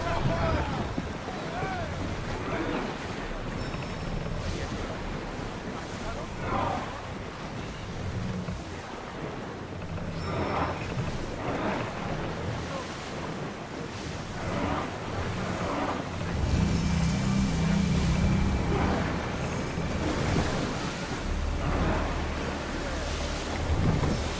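Wind gusts and surging waves on open sea aboard a sailing ship in Assassin's Creed Odyssey, a steady roaring wash with rising swells, while voices speak over it now and then.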